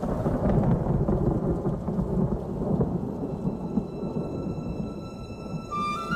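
Steady heavy rain pours with rolling thunder rumbling continuously throughout, a dense, loud stormy wash with no voices.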